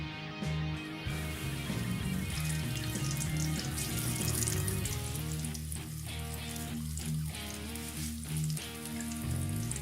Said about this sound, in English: So the oil's hot, time to throw the fish in.